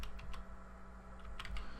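Quiet typing on a computer keyboard while entering HTML code: a soft, uneven patter of several key clicks over a steady background hum, with no voice.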